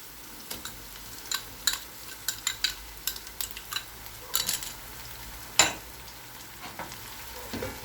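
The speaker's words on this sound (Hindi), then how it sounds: "पेस्ट को अच्छे से भून लेंगे।" Ginger garlic paste frying with onions in a pan, a steady low sizzle under repeated sharp scraping and stirring clicks of a spoon against the metal, close and fairly quiet.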